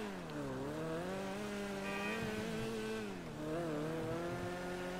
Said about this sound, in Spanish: Estoy subiendo un poquitico el volumen al televisor para poder escuchar el motor.